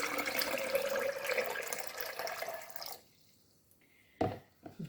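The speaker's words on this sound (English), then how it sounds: "I'm going to pour some water in the blender." Water poured into a blender for a June plum and cucumber juice: a close, splashy stream for about three seconds that stops abruptly, followed by a pause and a few short drips and knocks.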